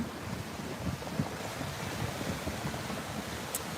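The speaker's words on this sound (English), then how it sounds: "Sunset on the beach on the Atlantic Ocean." Atlantic Ocean surf rolling steadily onto Deerfield Beach at sunset, a continuous low wash of waves mixed with wind buffeting the microphone, with no voices.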